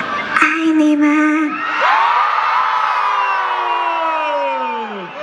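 Fans at a live fan event with Jessica Jung on stage shriek and cheer loudly, one high sustained scream rising over crowd whoops and then slowly fading.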